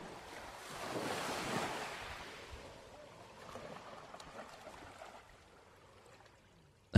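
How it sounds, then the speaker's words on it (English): Sea surf rolling onto a shore, a broad washing rush that swells early and then eases into a softer steady hiss, with wind noise and a sharp knock at the very end. "your ears are hearing the surface world, that sea rolling into the shore"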